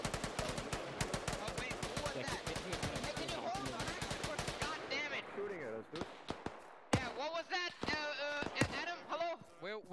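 Rapid automatic gunfire from an Arma 3 military firefight, dense bursts of close shots in the first half, then sparser single cracks and distant reports, with shouted team radio chatter and voices over the top.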